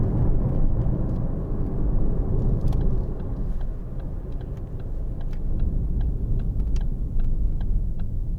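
A 2013 Ford Focus 1.6 TDCi ECOnetic driving on the road, a steady low engine and road rumble from inside the cabin with faint clicks and rattles over it, no talk.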